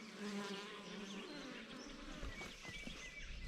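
Dense, close buzzing of many bees swarming around traditional African wild beehives, a continuous humming drone with individual insects whizzing near and away.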